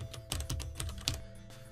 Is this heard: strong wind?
no